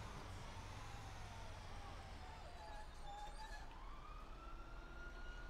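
Emergency vehicle sirens in the GTA 5 video game, a steady wailing tone rising and falling over a continuous low engine-like rumble, moderately loud throughout and sounding somewhat distant.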